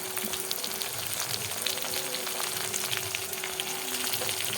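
Tomato and garlic fry in a pan with a dense, constant crackling sizzle, bright and even, with small popping spatters and no talking over it.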